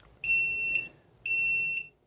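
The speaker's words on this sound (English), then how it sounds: "Yeah, we got this beeping," A GOLABS R300 portable LiFePO4 power station sounds its overload warning: two loud, shrill electronic beeps, each about half a second long, separated by a short pause, with no talking.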